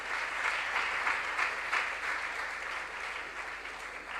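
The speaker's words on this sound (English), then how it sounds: "a round of applause for yourselves" Sustained applause from a crowd at a school science and maths quiz, an even wash of many hands clapping throughout without a break.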